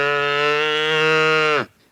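A sacred cow lets out one long, loud, angry moo with a steady harmonic tone that cuts off abruptly near the end, no voices.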